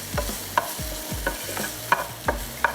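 Garlic sautéing in a pan for pulao, with a spoon scraping and stirring in regular strokes roughly every second over a soft background sizzle, close and clear, no talking.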